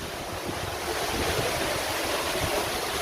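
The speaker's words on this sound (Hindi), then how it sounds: "ये झरना है" Godhas waterfall near Nuapada roars in a dense, steady rush of splashing water, close and continuous with no breaks and no voices.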